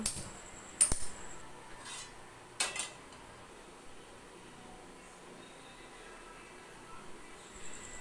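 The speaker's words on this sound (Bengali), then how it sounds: "প্রথমেই আমি গ্যাসটা জ্বালিয়ে নিয়ে কড়াইটি চাপিয়ে দিব" A wok is set onto a lit gas stove for cooking spiced eggs, making a few sharp metallic clanks close by within the first three seconds, followed by quiet room noise.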